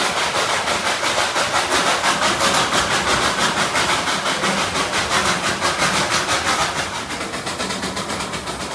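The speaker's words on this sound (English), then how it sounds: "Here it comes, the Darjeeling steam engine train" The Darjeeling Himalayan toy train's steam engine runs past with a loud, steady rhythmic chuffing and rolling rumble, close and continuous throughout, with no speech.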